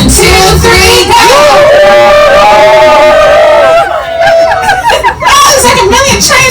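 A crowd of passengers on a Polar Express ride imitates a train whistle, many voices hooting and wailing together in a loud, sustained burst that dissolves into laughter and cheering.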